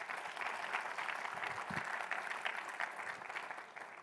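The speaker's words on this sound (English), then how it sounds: "So please give a round of applause for that." Sustained audience applause filling a closing plenary session at a small business finance forum, steady clapping throughout from a sizeable crowd, fairly distant and even, with no voices standing out.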